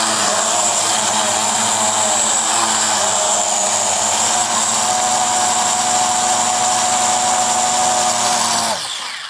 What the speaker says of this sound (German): Dann starten wir die Drohne mal.